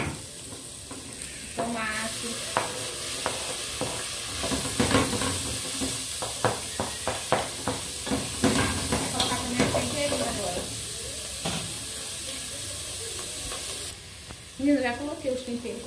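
Sausage sizzling in a pan for a creamy baked macaroni dish, a steady loud frying hiss with crackles and spatters throughout, stirring clatter now and then, and a brief pause before the sizzle picks up again.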